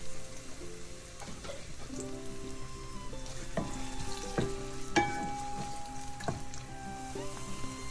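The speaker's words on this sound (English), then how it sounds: "Add onion. Let it simmer for about 1 minute or until it softens." Chopped onion fries in oil in a pan over medium heat, giving a continuous close sizzle with a few scattered clinks and scrapes.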